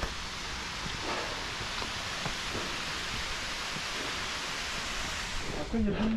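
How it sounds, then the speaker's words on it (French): A steady, continuous rush of a small waterfall on a trail race course near Besançon, broad and hissing, fills the whole stretch without a break, with a brief tonal squeak near the end. "petite cascade."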